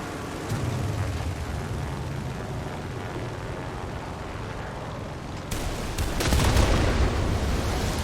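In the War Thunder naval battle, a small boat is blown apart: a deep, rumbling blast swells over a steady mechanical drone, followed by a second, louder burst of explosive roar near the end.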